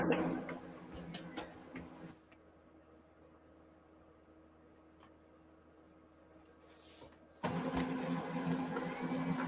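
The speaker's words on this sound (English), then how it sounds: "My stupid printer all of a sudden started going up." A home printer running on its own and feeding blank sheets, giving a busy mechanical whirring and clattering. It drops to a quiet hum in the middle, then starts up again loudly.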